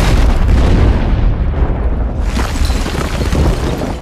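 A massive cinematic explosion from No Time to Die roars as a dense, sustained boom with rumbling low end and crackling debris, loud and continuous throughout.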